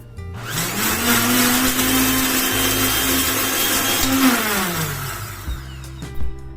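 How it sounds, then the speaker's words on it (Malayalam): An electric mixer grinder pulverises cut bread pieces into dry crumbs, a loud steady motor whine that spins up, holds its pitch for about four seconds, then winds down and stops, with no voices. "അതിനായിട്ട് ഞാൻ മുറിച്ചിട്ടതിൽ നിന്ന് കുറച്ച് ഇതിലേക്ക് മിക്സിയിലേക്ക് ഇട്ട് അത് പൊടിച്ചെടുക്കാണ്"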